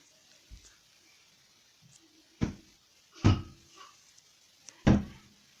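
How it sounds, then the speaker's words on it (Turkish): A baby knocking on a door indoors: three or four dull, separate thumps spaced about a second apart, fairly quiet and close, with no talking over them. "kapı sesi geliyorsa bebek vuruyor kapıya"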